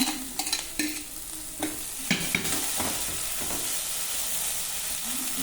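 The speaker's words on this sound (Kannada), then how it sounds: "ಎರಡು ನಿಮಿಷ ಬಾಡಿಸ್ಕೊಳ್ಳೋಣ" Horse gram fries in a pan for bassaru, with a few scraping stir strokes at the start that give way to a steady, close sizzle.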